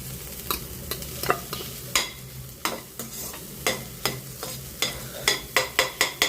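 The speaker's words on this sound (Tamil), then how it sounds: "இப்போது தேங்காய் சேர்த்துக்கலாங்க." A spoon stirs grated coconut into a carrot and bean poriyal in a pan, giving repeated close scraping strokes in a steady rhythm over a soft sizzle, with no voices.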